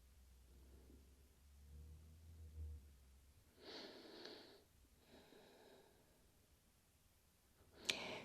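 Quiet, slow breaths during a beginner Pilates relaxation lying face down, forehead on hands, with two soft exhales through the nose followed by a brief click near the end.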